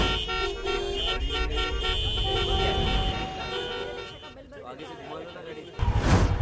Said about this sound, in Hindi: क्या यार, इतना ट्रैफिक क्यों है?